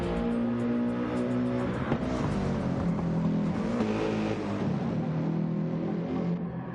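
GT race car engines in a sim racing game roar steadily and loudly throughout, with several cars running close together and engine tones rising and falling as they jostle through corners.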